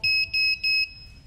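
A Nazgul Evoque F5 HD drone with a DJI Vista unit sounds its buzzer alarm on the repair bench. Three loud, shrill, evenly spaced beeps come close together, then stop.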